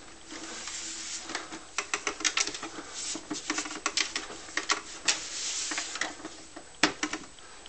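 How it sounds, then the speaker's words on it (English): A printer damaged by concrete dust runs with an irregular, rapid clattering and ticking, sharp mechanical clicks and rattles pattering close by with no talk. "and my printer. Check this out."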